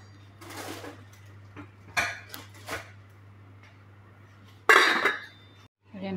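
A metal lid set onto a pot of simmering chicken tortilla soup gives a few light clinks and clatters, close by, over a low steady hum.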